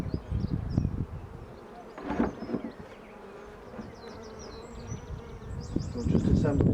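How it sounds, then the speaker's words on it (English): Honey bees buzz around a hive outdoors, a steady swarm-like drone with individual bees zipping close past the microphone at moments, under soft wind and some faint talk. "see the bees now are actually returning."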